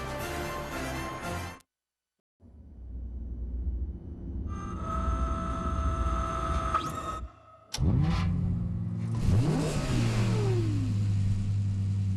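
A Lexus car engine in a TV commercial, revving up in loud rising surges with a sharp break of silence, then a deep rumbling roar and sweeping tones, without voices.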